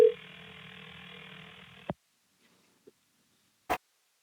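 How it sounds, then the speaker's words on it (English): Ringback tone of an outgoing phone call: a steady electronic tone for about two seconds, then a few soft clicks and a quiet line. "It's going to ring here. You'll hear it ring."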